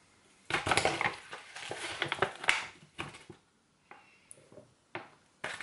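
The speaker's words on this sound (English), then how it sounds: "I'm going to put two scoops into my glass." Powder is scooped from a tub and tipped into a drinking glass: a run of scraping, rustling and light clinking scoop sounds, close and fairly quiet, ending with a few sharp taps, no talk.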